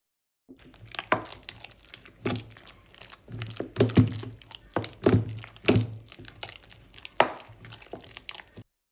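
Cooked jackfruit being mashed by hand for a traditional Kerala jackfruit curry, giving close, irregular wet thumps, squelches and crackles in uneven bursts, with no talking.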